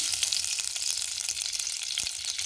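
Ghee heating in a pan while pongal is being made, giving a steady bright sizzle that runs unbroken and fairly close, with no voices over it.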